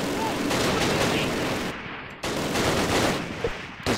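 Continuous loud gunfire and battle noise from the wartime strategy game Close Combat Last Stand Arnhem, dense overlapping shots filling the whole stretch with a brief dip midway.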